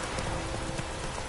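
Rain falls in The Witcher 3 as a dense, steady hiss of drops on the ground, brief and fairly quiet with no voices.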